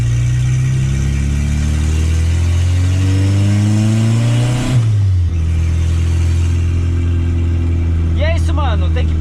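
A turbocharged VW Gol engine revs up with rising pitch, drops sharply mid-way during a shift into third gear, then settles into a steady, loud drone close by.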